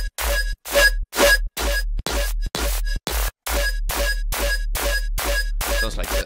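A bass synth patch run through OTT compression without saturation pulses in about a dozen short, evenly spaced hits, each a deep sub-heavy thump topped with bright, buzzy harmonics, loud and alone.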